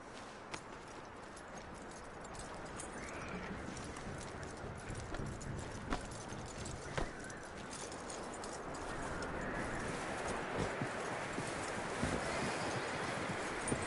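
Horse hooves clip-clop at a walking pace in the video game Red Dead Redemption, a steady, moderately close rhythm of soft thuds over an outdoor ambience of rustling and faint background sounds.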